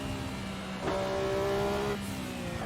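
Porsche 962C Group C race car engine in Assetto Corsa at Le Mans, a loud, steady turbocharged drone with a sharper rising pitch in the middle, continuous and alone without talk.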